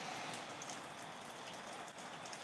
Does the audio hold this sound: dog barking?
no